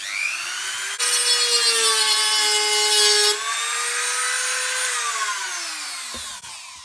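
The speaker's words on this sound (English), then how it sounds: "I'm just going to cut a channel just in here using the Dremel tool" A Dremel rotary tool cuts a channel into a plastic Nerf blaster, giving a loud, high whining grind that holds for several seconds, changes pitch as the load shifts, then winds down near the end.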